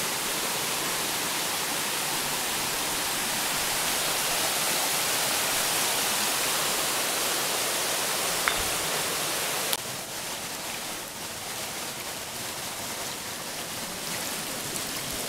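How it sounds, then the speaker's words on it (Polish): Hot spring water wells up from under small rocks in the Philippines, a steady broadband rush and trickle that holds throughout, nearby and moderately loud, with a slight shift in texture partway through and no talk. "Tam spod kamyczka też wypływa ciepła woda."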